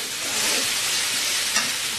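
Spice paste fries in hot oil for a pomfret fish curry, giving a steady close sizzle with faint stirring scrapes throughout.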